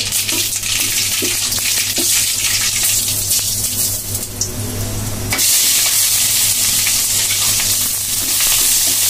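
Panch phoron spices crackle and sizzle in hot oil for a Bengali mango dal, a loud, steady frying hiss close up that brightens after a stir partway through, with no talk.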